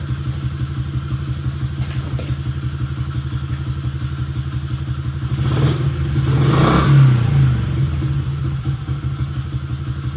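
A Honda XR50 motorcycle engine idles close by with a steady, chugging putter, swelling briefly in a rev midway before settling back to idle; no talking.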